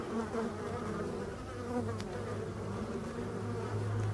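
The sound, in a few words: black honey bees entering the hive with pollen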